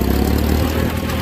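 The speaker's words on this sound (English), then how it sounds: "Good sounding tractor, guys." A Ford NAA tractor engine runs at a steady, low, throbbing rumble, heard close up and continuously with no voices.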